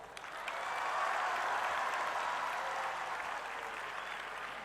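A crowd at a university event applauds children, with sustained dense clapping that swells and then slowly tapers, heard from amid a large audience.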